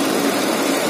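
A 2014 Hyundai i10 car engine idling, a steady, close, fairly loud hum that holds even throughout with no talking over it.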